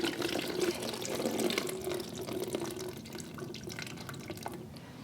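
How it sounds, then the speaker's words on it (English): Whey is drained off a congealed mass of mozzarella curd made from powdered milk, a steady close trickle and splash of liquid pouring for the whole stretch, with small drips over it and no talking. "It's kind of congealed into a single mass here, but I want to drain off that whey."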